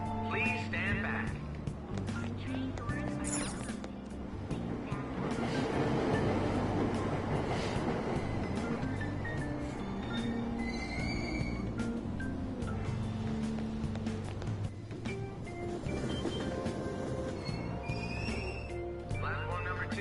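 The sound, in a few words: train departing in Persona 5 video game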